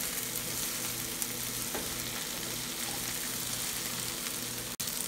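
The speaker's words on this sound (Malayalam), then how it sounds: "നന്നായി ഈ പൊടികളുമായിട്ട് ഒന്ന് വഴറ്റിയെടുക്കണം." Onions sauté with spice powders in a pan for egg curry, a steady close sizzle and frying hiss that runs throughout with faint stirring scrapes.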